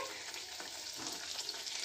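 Malpua batter fries in hot oil in a pan, giving a steady, soft crackling sizzle at close range with no speech over it.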